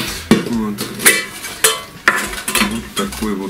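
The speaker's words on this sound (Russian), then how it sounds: "Ручка у нас удобно складывается на одну или на вторую сторону." Metallic clinks and clacks as the folding handle of a stainless steel camping pot is moved and handled, several sharp close knocks spaced irregularly with ringing tails.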